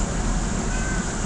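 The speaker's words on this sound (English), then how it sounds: "And there goes the horny cat." A cat meows once or twice indoors, a short nearby call over a steady, noisy room background with no talking.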